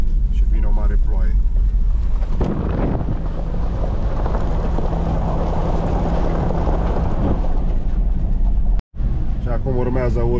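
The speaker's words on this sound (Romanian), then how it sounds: "Și vine o mare ploaie." Heavy rain and thunder roll over a Dacia Duster 1.3 4x4 in rural Romania, a dense roaring wash with wind buffeting the microphone, brief clicks near the end, and someone speaking at the start and finish.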